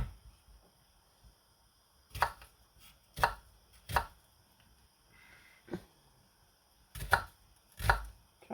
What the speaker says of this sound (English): chop this onion up